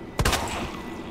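A single gunshot from a firearm in the horror video game Resident Evil 2 Remake, loud and sharp, followed by a short rumbling echo that fades into a low background hum.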